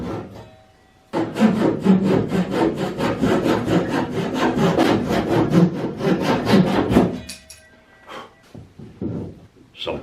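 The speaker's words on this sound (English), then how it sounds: "Some planing finalized the work." A hand plane shaves wooden boat strakes at the stem and transom in rapid, steady rasping strokes, close and loud, followed by a few scattered knocks and scrapes.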